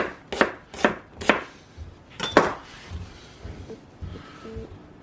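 Carrots being chopped into half-inch pieces for pasta e fagioli, a knife striking the cutting board in crisp, close, fairly loud chops, five quick ones in a loose rhythm followed by softer board taps.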